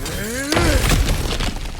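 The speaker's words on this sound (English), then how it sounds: "back to smashing through things for fun and profit" Objects shatter and break apart in a loud crash in God of War Ragnarök, a sudden burst of debris at about the half-second mark, followed by scattered clattering fragments, with a tonal sweep just before and faint game ambience.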